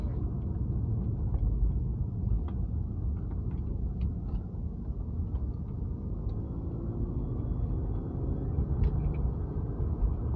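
A BMW E36 fitted with a Remus exhaust pulls hard onto a highway, its engine and exhaust a steady, loud rumble from the cabin for about ten seconds, with no talking.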